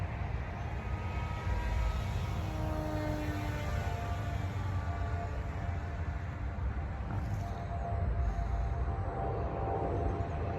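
A Techone Popwing RC model wing with its original electric motor and propeller flies overhead, a steady buzzing drone that stays constant and fairly loud against wind noise.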